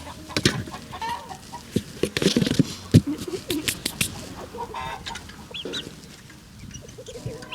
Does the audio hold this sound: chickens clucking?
yes